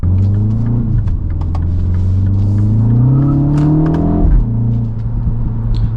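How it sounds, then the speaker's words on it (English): A 2025 MINI JCW Convertible engine hums and revs up and down steadily, with a scatter of small crackling fake exhaust pops from the speaker system riding over the drone. "you get a little bit of some fake pops and bangs out of this speaker system here."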